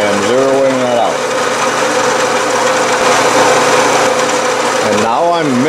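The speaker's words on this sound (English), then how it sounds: "now I'm milling a 5 degree angle on the side of the tool" A milling machine cuts a 5 degree angle on the side of a lathe tool held in a vise, a steady loud mechanical whine running throughout, with a person talking over it at the start and end.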